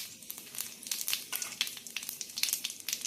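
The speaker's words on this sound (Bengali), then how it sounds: "এবার তেলের মধ্যে ফোড়নে দেওয়া হচ্ছে সাদা জিরে," Cumin seeds and a bay leaf sizzle in hot oil for a vegetable curry, making a bright, crackling sizzle with rapid pops and spits. It sounds close and continuous throughout, with no talking.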